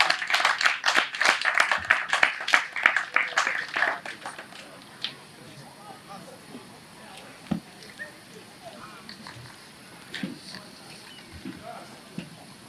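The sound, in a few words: audience clapping hands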